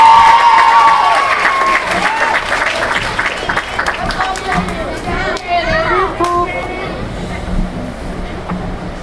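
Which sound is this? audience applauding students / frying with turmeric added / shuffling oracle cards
audience applauding students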